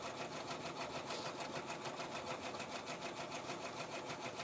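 A sewing machine hums and clatters steadily in a fast, even stitching rhythm, continuous and fairly quiet, with no voices.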